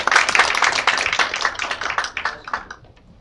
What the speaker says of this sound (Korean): 이경옥 메타버스 부사장님을 뜨거운 박수로 환영했어요